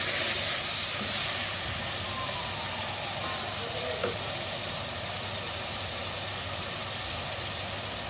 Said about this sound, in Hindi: मैंने इसके अंदर लहसुन अदरक का पेस्ट, टमाटर और हरी मिर्चों का पीस के इसको डाल दिया इसके अंदर।